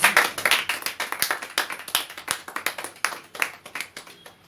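A church congregation claps in rhythm to praise the Lord, a brisk, steady beat of hand claps over several seconds with no talk on top.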